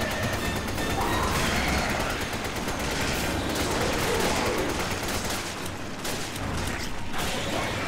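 Continuous dense gunfire and mechanical clatter from the video game Resident Evil 5, a steady loud barrage with no break across the whole stretch.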